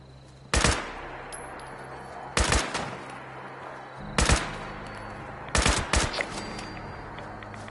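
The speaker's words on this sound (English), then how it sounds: "Stop shooting at me." Bursts of gunfire aimed at the player in the post-apocalyptic online game Fallout 76: four short, loud volleys of rapid shots spaced a second or two apart, each followed by lingering rumble, over quiet background.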